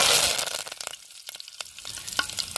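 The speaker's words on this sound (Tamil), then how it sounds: "எண்ணெய் சூடாயிருச்சுங்க கடுவு போட்டுக்கிறோம்" Mustard seeds crackle and sizzle in hot oil, a burst of loud frying at first, then sharp scattered pops and spits.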